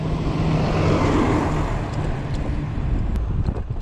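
A Jetson Bolt Pro electric scooter on a ride gives a continuous broadband road and wind roar, close and steady throughout with no speech.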